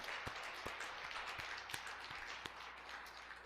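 Church congregation at a Korean founding thanksgiving Sunday service applauding, heard as faint, steady scattered clapping from a distant crowd with a few sharper claps standing out.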